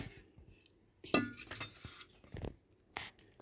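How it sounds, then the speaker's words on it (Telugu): Sweet corn goes into a bowl with scattered clinks and taps of utensil against dish, faint and close, with no voices. "ఒక బౌల్ తీసుకుని ముందు స్వీట్ కార్న్ వేసుకుందాం."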